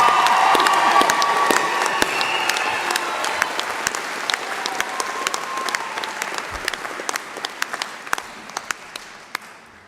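A large audience at a university graduation ceremony applauds steadily, dense clapping that slowly thins and fades toward the end, with a few louder individual claps standing out.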